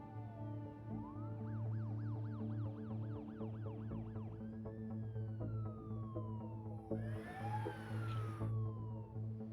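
Ambulance and police car sirens wail through a quiet night-time city in the SimCity game, overlapping rising and falling sweeps over a steady hum of background music and ambience.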